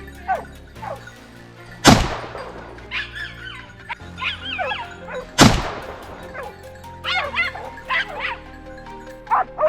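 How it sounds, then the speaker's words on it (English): Hunting dogs on a wild boar chase in hilly forest bark and yelp in sharp, repeated bursts, some with loud close outbursts and whimpering between, fairly near and clear with little talk. "Suddenly, barking echoed,"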